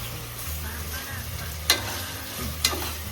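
Chicken biryani ingredients frying in ghee in a pan, a close, steady sizzle with two sharp scrape-and-clack stir strokes of a spoon against the pan, no talk.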